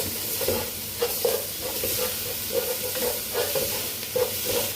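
Spices and tomato paste sizzle in a hot pan with a constant frying hiss, punctuated by repeated soft scraping stirs at an irregular rhythm, close and moderately loud, with no talking.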